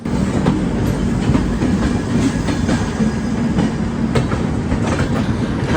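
A train rolls steadily past at Lucknow Charbagh railway station, heard up close and loud, with a continuous low rumble and rhythmic clickety-clack from the wheels running over rail joints. No one speaks.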